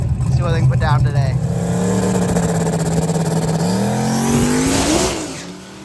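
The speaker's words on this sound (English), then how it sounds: "we got the maroon Nova over in the far lane, and we got the Mustang here" At a street-car drag race, a maroon Nova and a Mustang launch with a loud, throaty engine roar. The revs climb steadily and then surge near the end before fading, with a voice talking over the noise.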